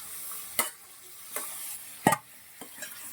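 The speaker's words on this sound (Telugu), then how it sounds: "ఇదిగో నేను చికెన్ అయితే వేసేస్తాను" Chicken stirred into fried onions in a pan, with a faint frying hiss and four separate sharp spoon knocks and scrapes against the pan, spaced unevenly.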